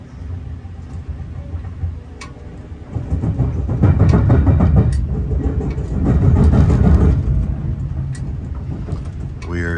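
Amtrak's Chicago-bound Cardinal crossing the Indiana Harbor Belt line near Dolton, Illinois, heard from inside: a steady low rumble of wheels on rail that swells louder midway, with faint clicks over the track joints.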